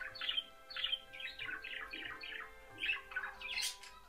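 A hawfinch giving harsh, unmusical chirping calls, a series of short, sharp notes repeated roughly every half second, close and clear against a quiet background.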